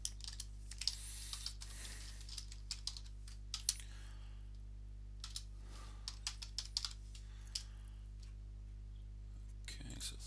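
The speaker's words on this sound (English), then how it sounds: "I'll just type this in." Someone types on a computer keyboard, with quiet, irregular clicks and short bursts of keystrokes over a steady low hum in a quiet room.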